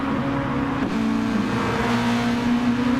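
Race cars lapping a track in Gran Turismo Sport, several engines droning and revving close together in a loud, continuous blend.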